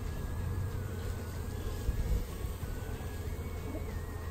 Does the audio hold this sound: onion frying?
no